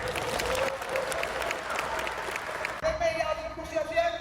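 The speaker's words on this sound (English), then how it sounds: "We're going to give a big round of applause for Ruthie Bolton." An audience at the Golden State Warriors facility applauds former WNBA player and two-time Olympic champion Ruthie Bolton, dense clapping and some cheering that gives way partway through to a sustained tone and lighter crowd noise.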